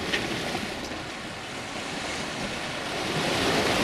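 Sea waves wash continuously against the coast of the Isle of Portland on the South West Coast Path, a steady broad rushing surf mixed with wind buffeting the microphone, loud and unbroken.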